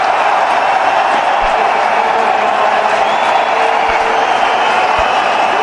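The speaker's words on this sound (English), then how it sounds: "A clap from Ross Taylor" A large cricket stadium crowd roars and applauds in a loud, sustained wash of cheering after Virat Kohli reaches his century in a one-day international against New Zealand.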